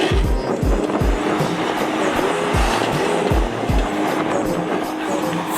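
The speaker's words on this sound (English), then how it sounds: "gonna bust some fucking crazy skids right here in the dirt" A stock Nissan 350Z skids in the dirt, its engine roaring steadily with rhythmic thumps and scraping as the tires slide, loud and fairly close without talk.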